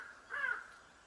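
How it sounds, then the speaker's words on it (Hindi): A crow gives a single hoarse caw as it flies past over dense forest near a forest rest house in Uttarakhand's Jim Corbett area. The call is brief and moderately clear against a quiet background. "कौवा जा रहा है,"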